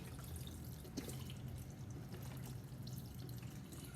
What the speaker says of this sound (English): So I'm just going to pour this in here.